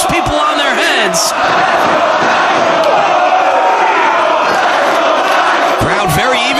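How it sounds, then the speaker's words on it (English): Arena crowd at a professional tag-team wrestling match roars and cheers steadily for both sides, a dense, continuous wall of voices with shouts rising through it, and a commentator talking over the noise. "Crowd very evenly split for their support of both these athletes."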